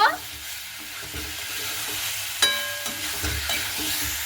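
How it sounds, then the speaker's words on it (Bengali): Potatoes fry in a pan under a loud, continuous sizzle while a spatula stirs them with a sharp clank and a series of close scraping knocks. "আলুটাকে দিয়ে খুব ভালো মতো করে আমি হালকা করে নাড়াচাড়া করে নেব"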